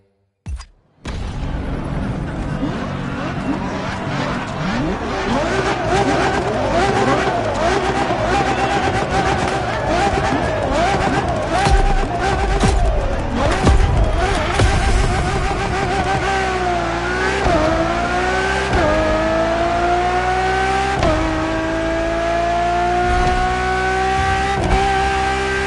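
An Enzo Ferrari races in The Crew during a police chase, its engine roaring loud and continuous as it revs up through rising gear shifts, with occasional tire squeal.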